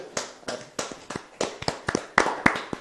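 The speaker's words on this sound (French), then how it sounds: "Applaudissements, s'il vous plaît." Scattered hand claps from a small group welcoming a newcomer to a casual talk show, uneven and a little sparse, a dozen or so sharp claps close by with no voices.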